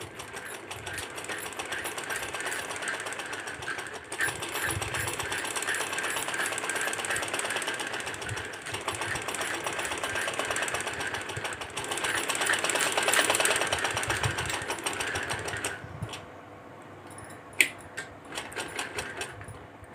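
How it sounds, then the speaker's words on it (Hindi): A sewing machine runs steadily for about fifteen seconds, stitching the fitting seam of a garment with a close, even whir. It then stops, leaving a few scattered clicks and taps. "अब मैं फिटिंग की सिलाई लगाऊंगी।"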